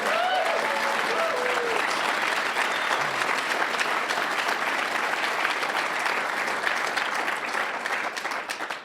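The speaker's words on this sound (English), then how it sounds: "Round of applause for them." Sustained audience applause at an awards event, loud and steady throughout with a few whoops and faint voices rising over the dense clapping before it thins slightly at the end.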